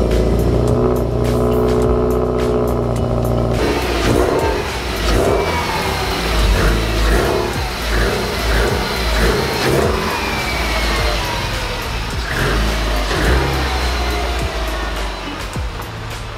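A modified 500 hp Subaru STI fires up from cold in a shop, settling into a loud, lumpy high idle, then blips through repeated sharp revs close by.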